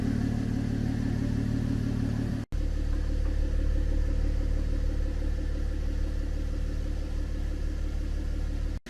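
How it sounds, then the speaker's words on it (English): Steady low exhaust rumble from a 2015 Cadillac CTS V6 idling, its note echoing out of the resonator box; the drone runs continuously with a brief dropout, close and fairly loud, with no talk. "most of the exhaust noise comes from this resonator box."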